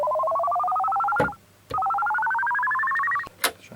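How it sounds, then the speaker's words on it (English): A Korg Minilogue synth plays a saw-wave teleport effect, two bright, rapidly warbling tones that each sweep slowly upward before cutting off, separated by short clicks and gaps. "Kind of like a teleport sound."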